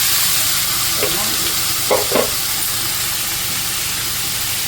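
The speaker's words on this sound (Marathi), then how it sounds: "असा कांदा बारीक गॅसवर आपला परतत राहील कांदा आणि टमाटा दोन्ही एकत्रच बारीक केलं आहे" Chopped onion and tomato sautéing in a pan over a low gas flame, a loud continuous hissing sizzle with a couple of brief stirring clatters in the middle.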